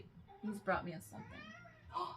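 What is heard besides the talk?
cat meowing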